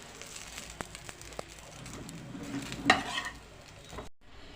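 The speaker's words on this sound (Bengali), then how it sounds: "বেগুনগুলো ভাজা হয়ে গেছে, এবার নামিয়ে ফেলবো, আর খুব বেশি ভাজবো না।" Eggplant fries quietly in a pan, a soft sizzle under light stirring and scraping, with one sharper clink near the end before the sound cuts off abruptly.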